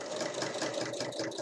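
Sewing machine topstitching along the edge of a square fabric pouch with two large handles, a steady continuous whirring buzz running close and loud without pause.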